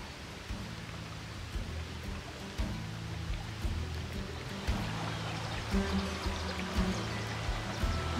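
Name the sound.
river water flowing near the riverbank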